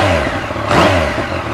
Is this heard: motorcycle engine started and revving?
yes